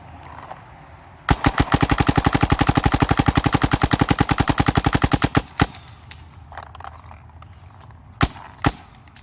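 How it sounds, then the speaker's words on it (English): A Dye DSR paintball marker fires a rapid burst of about forty evenly spaced, loud pops, followed by a few scattered single shots at close range. "Still shooting in that 280 range."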